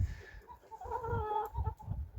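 Geese and ducks clucking and honking close by as they feed, with soft pecking and shuffling sounds underneath.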